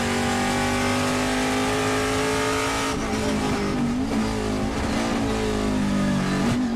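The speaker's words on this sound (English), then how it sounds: "You can see how many times they have to downshift and upshift." Trans Am race cars at Thunderhill roar past, engines rising and falling in pitch as drivers downshift and upshift through a technical section, loud and close with overlapping revs.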